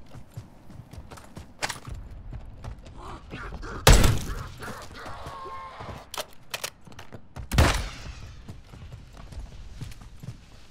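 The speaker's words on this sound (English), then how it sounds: "Mortar strike inbound now." Mortar strike explosions hit in Call of Duty Modern Warfare 3 zombies mode: two sharp, loud blasts land a few seconds apart over a constant clatter of game noise.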